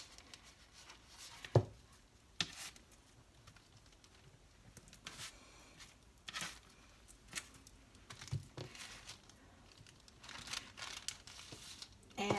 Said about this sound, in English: I'm going to show you this parchment paper that I'm using.